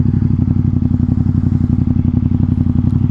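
A Ducati XDiavel with a Termignoni exhaust idles loud and close, a deep, rapid throbbing rumble with a steady lumpy pulse throughout and no voices.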